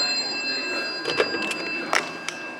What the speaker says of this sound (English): Oh, something's ringing.